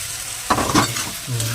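Chicken masala with green chillies stir-fried (kosha) in a pan, heard close up as a brief sizzle broken by a couple of quick spoon scrapes.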